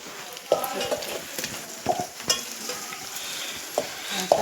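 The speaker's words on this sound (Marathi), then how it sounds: "कांदा फ्राय झाला असं सांग" Onions frying in a pan with a steady sizzle, while a utensil stirs and scrapes them in sharp, irregular clacks, close and alone without talk.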